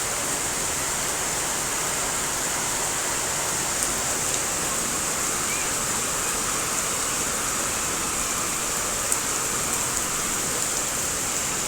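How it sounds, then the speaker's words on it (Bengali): Rain falls steadily outdoors on a hot day, a continuous even hiss of drops with faint tapping on nearby surfaces and no voices, lasting throughout. "ভালোই বৃষ্টি নামছে"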